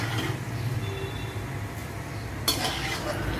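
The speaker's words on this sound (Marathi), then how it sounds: "आता हे शेंगदाणे बाजूच्या पोह्यांवर काढते" Roasted peanuts are scooped from a frying pan onto poha, faint metal scraping and light clinks of a spoon against the pan, ending in a sharper scrape.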